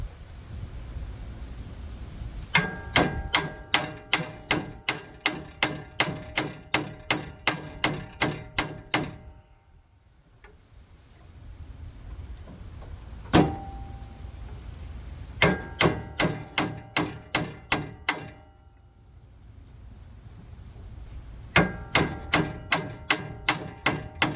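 Rapid, evenly spaced metallic taps from a small ball peen hammer on the steering of a John Deere 175 tractor, in three bursts of about a dozen strikes each, separated by short quiet gaps.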